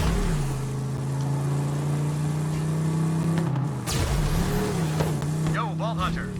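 A vehicle engine drones steadily in Borderlands 3, its exhaust note shifting as the car boosts, with thuds and a rising whine near the end; a voice talks over the engine.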